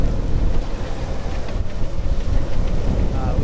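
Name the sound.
strong wind on a boat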